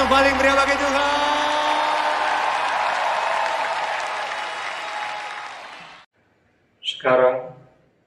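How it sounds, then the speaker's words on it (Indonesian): A church congregation at a worship service claps and cheers in a loud, dense wave of applause that slowly fades and stops, followed after a short silence by a voice speaking. "Memberikan sorak-sorai yang paling meriah bagi Tuhan"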